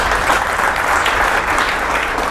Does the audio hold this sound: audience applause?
yes